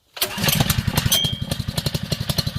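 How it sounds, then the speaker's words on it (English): A Honda 2-inch utility water pump's small engine cranks and catches quickly, then settles into a fast, even putter that sounds close and loud. "I'm gonna start this pump"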